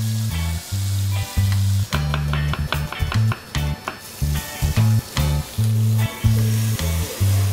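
Butter and oil sizzle loudly in a pot with rosemary, bay leaf and garlic, a steady crackling fry broken by rhythmic low knocks and clatter, as of a utensil stirring, with no talk.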